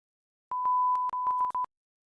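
A censor beep tone cuts in and out in a rapid series of short, choppy bursts, with faint clicks at each break, fairly quiet and alone.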